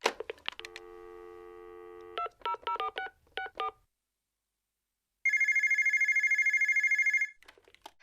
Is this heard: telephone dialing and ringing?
yes